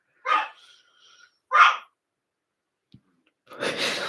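A dog gives two short, sharp barks about a second apart, close by with quiet gaps, followed by a brief rustling noise at the end.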